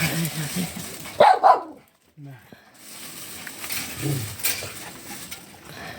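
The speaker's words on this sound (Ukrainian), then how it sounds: "Собаки попрошайничать." Dogs begging for food in a yard while potatoes are being dug: a few short, close barks come in a quick burst, then fall silent, with a person talking around them.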